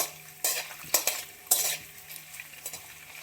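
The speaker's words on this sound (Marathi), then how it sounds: "आता आपलं पनीर पण छान तळून होत आहे त्याला पण छान परतून घेऊया" Paneer cubes sizzle softly in a hot pan while a spatula stirs and scrapes them in several sharp strokes, with no talking.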